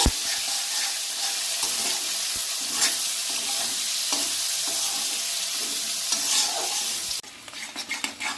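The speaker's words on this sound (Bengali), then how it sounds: "পেঁয়াজটাকে লাল লাল করে ভেজে নেব।" Three chopped onions frying in oil in a pan for a mutton curry, a steady close sizzle with occasional stirring scrapes, the hiss dropping away near the end.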